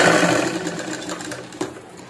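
A sewing machine runs steadily and close by while stitching the shoulder joint of a princess-cut blouse, a whirring motor hum that fades slightly and ends with a small click.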